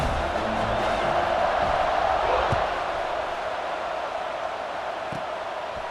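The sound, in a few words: stadium crowd buzzing in EA Sports College Football 26 video game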